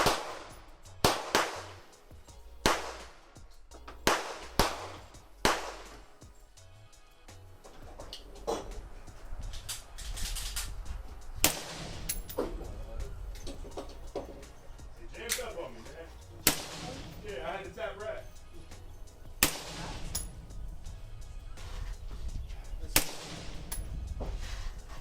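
Rifle shots fired with 55 grain ammunition at a 25-yard shooting range, with a sharp crack every few seconds over a low background rumble.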